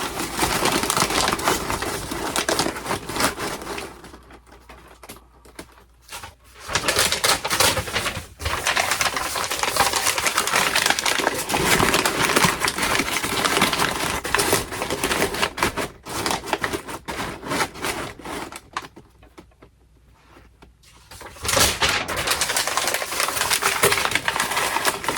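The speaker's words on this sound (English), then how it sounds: "So I use craft paper. It's a lot more stiffer than the other paper that I used, and I can just crumple it up" Stiff kraft paper is crumpled by hand to pack a fragile vintage lamp, dense close-up crackling and crinkling in long bursts, broken by two brief pauses of near silence.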